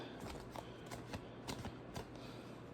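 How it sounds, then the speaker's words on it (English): Tarot cards being shuffled by hand give a quick run of soft riffling snaps and flutters, close and quiet, with no talking. "Let me do a little shuffle"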